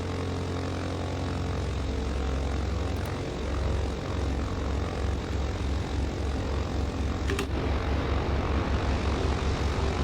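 Britten Norman Islander propeller plane in Microsoft Flight Simulator, steady loud engine drone with throbbing propeller harmonics that rise and pulse as power builds, a few brief clicks, no talking.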